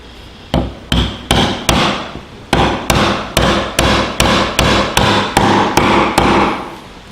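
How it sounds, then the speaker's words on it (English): Chisel being struck to pare wood down to a knife mark on the shoulders of a dovetail lap joint, giving a dozen loud, sharp, evenly spaced blows heard close up with no talk. "Now I'm paring down right to the knife mark on the shoulders with my chisel."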